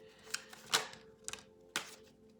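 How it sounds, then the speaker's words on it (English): Tarot cards shuffled and tapped back into a deck, giving three quiet, brief papery slaps and flutters with small clicks between them, close and soft, with no talking. "Okay, let me put these back. Too many cards."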